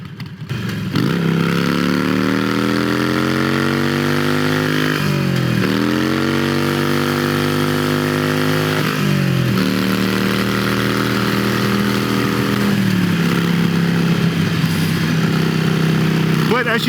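A Harley-Davidson Iron 883 motorcycle accelerates onto a highway, its loud close engine climbing in pitch through several gear shifts, dipping at each change and then rising again, with wind rush underneath.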